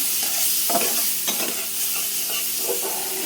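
Prawns frying in masala in a pan, stirred with a spatula: a bright steady sizzle broken by a few scraping strokes, close and fairly loud, with no voices.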